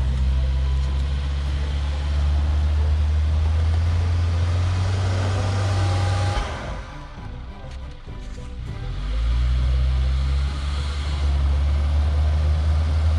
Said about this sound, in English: Listen to the CVT slowly spool up.